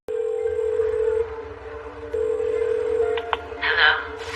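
Telephone keypad tones from a jail phone call, a steady tone broken by a brief pause, then a few short beeps and a louder burst near the end.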